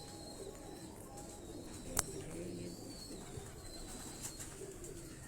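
Pigeons coo on a rooftop loft in Lahore, low soft calls running under light ambient noise, broken by a sharp click or tap and a few fainter knocks.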